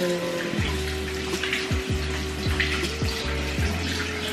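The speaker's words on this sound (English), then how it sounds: "So when you're done, you're gonna wash your brush off." A face scrub brush is rinsed under running tap water at a bathroom sink, a steady close splashing stream with repeated tonal sweeps as the flow shifts around the bristles.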